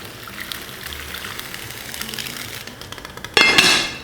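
Water poured into a pot of braised lamb with chicken stock, first as faint trickling and sputtering, then a louder gushing pour near the end.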